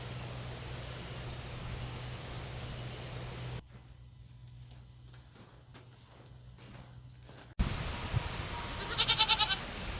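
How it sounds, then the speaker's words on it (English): Goats bleat around feeding time during morning homestead chores, calls scattered over steady background noise with a quieter gap midway, then a sharper burst of bleats near the end. "Goats are fed and watered."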